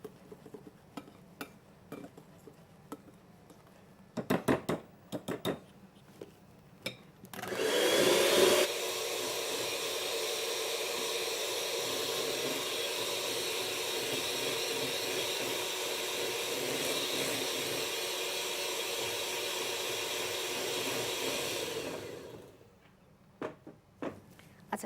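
Whipped foam for a dessert being stirred and beaten steadily, a continuous loud whirring drone lasting about fifteen seconds, preceded by brief scattered clinks and taps of utensils against a bowl.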